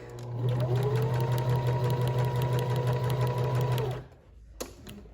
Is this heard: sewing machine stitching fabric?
yes